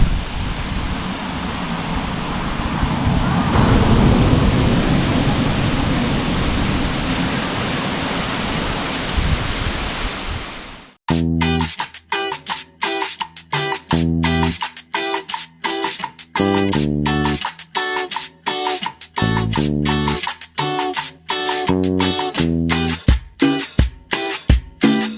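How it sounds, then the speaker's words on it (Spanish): Roadside waterfall beside the highway between Tunja and Bucaramanga, heard as a loud, steady rushing wash of falling water for about eleven seconds, after which it cuts off and music takes over. "Miren esta cascada en medio de la carretera"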